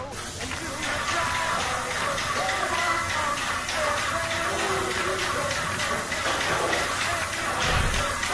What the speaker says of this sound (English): we're gonna use an acrylic DTM on this and give it one quick blast